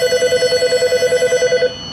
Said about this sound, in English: And you can answer the phone.